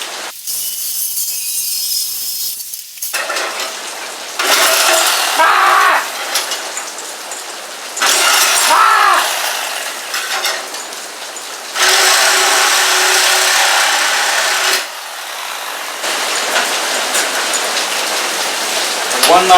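Sawzall reciprocating saw cutting out the quarter glass of a Nissan S13, loud harsh buzzing in several bursts of a few seconds each, separated by quieter gaps.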